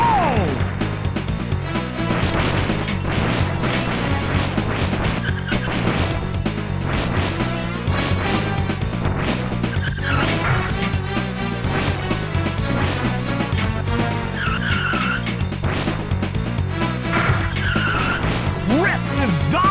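Race cars in Rock n' Roll Racing roar and skid with tire squeals and crashing impacts as a car is about to blow up, a loud continuous game mix with music running underneath.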